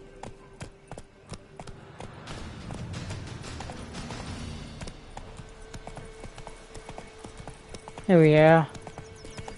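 Roach the horse gallops in The Witcher 3 on PS5, steady clip-clop hoofbeats running under a man's speech, ending in a brief loud tonal burst.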